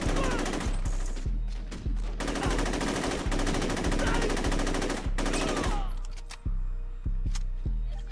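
Gunfire in the video game Saints Row during the Victor boss fight: long bursts of rapid automatic fire at close range, broken by short pauses, then separate single heavy shots spaced out toward the end.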